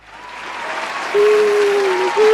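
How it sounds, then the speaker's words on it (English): An audience applauds for a guest on a talk show, the clapping swelling up over a couple of seconds, with a steady tone running underneath. "Give a round of applause for PandaranVA!"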